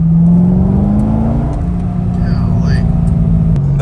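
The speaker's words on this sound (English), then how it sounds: "The pops on decel are amazing." A sports car engine revs loud and steady with a rising drone, tone dipping as the driver shifts, with faint crackling exhaust pops on deceleration near the end.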